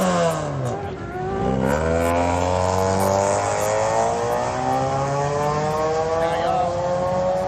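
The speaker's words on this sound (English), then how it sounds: "Here comes the Toyota Corolla on nitrous." A nitrous-fed Toyota Corolla launches at a night street race, its engine climbing through repeated rising revs and gear changes, loud and sustained against a crowd-noise backdrop.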